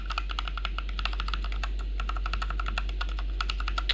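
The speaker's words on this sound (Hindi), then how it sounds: "कीबोर्ड की अगर बात करें तो ये इसकी साउंड ऐसी है" Fingers type on a budget metal-bodied mechanical gaming keyboard with brown switches, producing a fast, crisp, steady stream of close key clicks over a low constant hum.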